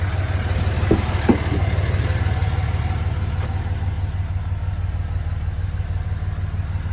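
A 2004 Dodge Ram 2500 with a Cummins diesel idles close by with a steady, low, rumbling throb. A couple of faint clicks are heard early, and no one speaks.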